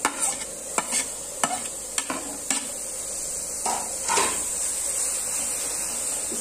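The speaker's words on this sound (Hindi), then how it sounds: "अब इसमें हम लहसुन डालेंगे।" Garlic being added to hot oil in a pan, a close stirring and sizzling with several sharp scrapes and clinks of a utensil against the pan early on, then a steady fry hiss with no talk.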